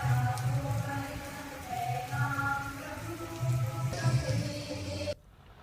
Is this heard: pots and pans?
no